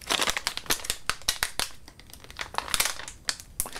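A resealable plastic sample bag of Survival Tabs crinkles and crackles loudly up close as it is worked open, dense bursts of rustling coming in quick uneven pulses throughout, with no talk.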